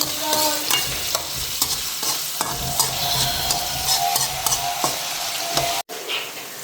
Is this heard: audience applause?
no